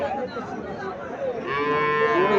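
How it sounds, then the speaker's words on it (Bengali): A young heifer calf at a Comilla cattle sale moos in a drawn-out, rising call that swells in the second half over a busy background murmur. "এখানে একটা বকনা বাছুর দেখা যাচ্ছে"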